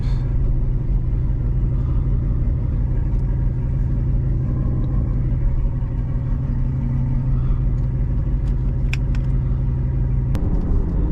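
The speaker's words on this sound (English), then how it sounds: "All right, we'll put it in reverse. Let's slowly start to back up." A Chevrolet C7 Corvette Z51 backing up slowly in reverse, its engine holding a low, steady idling rumble close by, with a few light clicks and knocks near the end and no talking.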